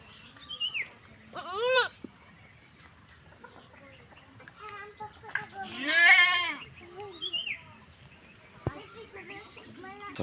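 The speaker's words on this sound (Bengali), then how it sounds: "ছাগল" Goats on a rural village homestead, including a pregnant doe and a young kid, bleat in several separate calls, some close and loud, others softer, with quiet background noise between them.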